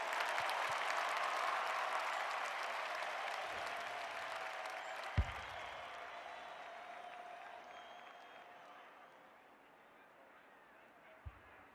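Football crowd at a VFL match between Collingwood and South Melbourne cheering after a goal: a broad roar and applause from the stands swells loud, then slowly fades, with a couple of sharp thumps.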